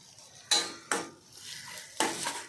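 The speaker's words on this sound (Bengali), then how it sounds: "এটা পুরো মিক্সিং হয়ে যাচ্ছে ভালো করে।" A spoon scraping through potatoes with soybean chunks and egg in a pan, three sharp clanking strokes against the metal spaced about half a second apart, with a faint sizzle between them.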